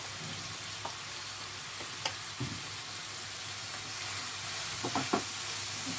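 Ground spices stirred and frying in a pan for chicken jalfrezi, a soft steady sizzle and hiss with a few light scraping knocks from the spatula, quiet and close.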